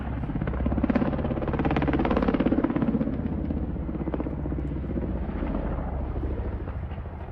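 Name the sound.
Mi-24 helicopter flying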